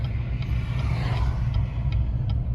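A car pulling away nearby, its engine a steady low rumble with some road noise throughout and no talking.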